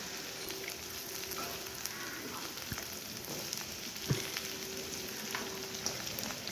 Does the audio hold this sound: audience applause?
no